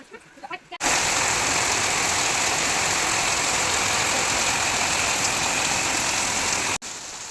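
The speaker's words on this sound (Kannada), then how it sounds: "ಬೆಳಿಗ್ಗೆನೆ ಜೋರು ಮಳೆ ಸ್ಟಾರ್ಟ್ ಆಯ್ತು" Heavy morning rain pours down in a dense, loud, steady roar for about six seconds, starting abruptly after a brief quieter moment and ending with a cut to softer rain.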